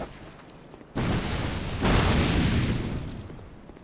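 Firebombs exploding in Dark Souls 2: two sudden heavy blasts in quick succession, the second louder and deeper, each trailing into a roaring, crackling fiery rumble that slowly fades.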